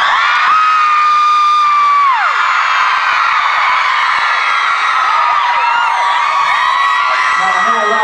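Concert crowd in Boston cheering, whooping and yelling loudly throughout, with sustained shouts and high whistles forming a dense, continuous roar.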